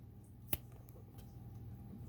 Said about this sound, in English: So, let's try this little thing, which is me just trying to snap my fingers